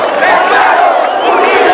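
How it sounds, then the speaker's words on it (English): A 1988 El Salvador protest march crowd taunts and chants in solidarity, a dense continuous roar of many voices shouting together, loud and close throughout. "The crowd responds with taunts and chants of solidarity."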